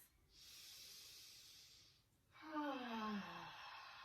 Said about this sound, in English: it feels really nice just listening to your own breath